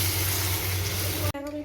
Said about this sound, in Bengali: এখন একটু জল দিয়ে দিয়েছি